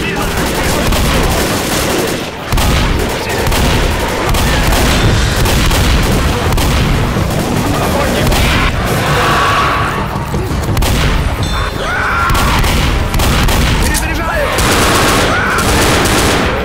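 Dense, loud gunfire and booming blasts from the Left 4 Dead zombie shooter, Death Toll boathouse finale, with rapid automatic bursts over continuous chaotic action, and voices calling out between shots.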